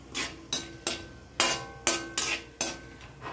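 Cumin, cinnamon sticks and star anise being sautéed in hot oil for a mushroom gravy, heard as about seven sharp, evenly spaced clinks of a spoon against the pan, fairly close, with little sizzle and no talking.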